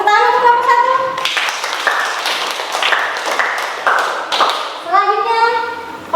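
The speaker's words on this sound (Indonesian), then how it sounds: "silakan kembali tepuk tangan untuk kelompok 1" Classroom students clap for a group presentation, a burst of dense applause that starts abruptly after a voice, lasts several seconds, and gives way to speech again.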